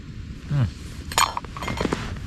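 Peas being stirred in a small metal camping pan outdoors while wild camping in the Yorkshire Dales, with quiet scrapes and clinks of utensil against metal, a few sharper taps, faint and close.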